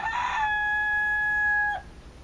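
A single rooster crows once, loud and near, a drawn-out call lasting well over a second that ends abruptly, followed by faint room noise.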